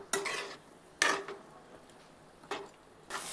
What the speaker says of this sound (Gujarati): તો આ રીતે આપણે તેને હલાવતા રહી અને પાકવા દેવાના છે.